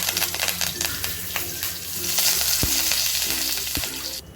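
Curry leaves crackle and sizzle in hot tempering oil with cumin and asafoetida, a loud steady frying hiss with spatula clinks and stirring, close up and without speech.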